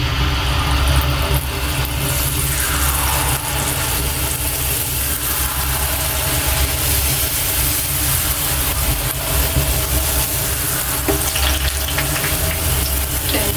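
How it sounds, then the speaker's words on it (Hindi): Jalebi batter frying in very hot oil, a steady close sizzle and crackle running throughout with an even level and no talking. "अब हम इसको फ्राई करते हैं।"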